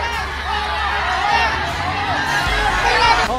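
Boxing arena crowd roars and cheers loudly throughout a fight, a dense steady wall of shouting and whoops with a swell near the end.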